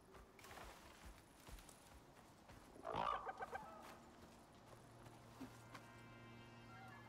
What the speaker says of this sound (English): There's the jerk bird as well.